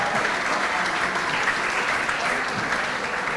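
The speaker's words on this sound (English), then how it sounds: "I ask for a round of applause from everybody in the room" A room full of guests at a high school Hall of Fame induction banquet gives a round of applause, thick continuous clapping at an even level throughout.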